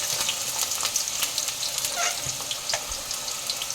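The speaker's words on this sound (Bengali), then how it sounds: "এগুলোকে আমি ভালো করে ভেজে তুলে রাখবো।" Potatoes and other ingredients for Kolkata-style ghugni frying in hot oil give a constant bright sizzle, crackling with small pops and occasional stirring clicks, close by and with no voices.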